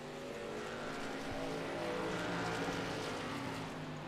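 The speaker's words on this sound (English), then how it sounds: "Building up the revs." Race truck engine revving hard at Atlanta Motor Speedway in a sim racing video game, a continuous loud roar with rising and falling pitch and no talk over it.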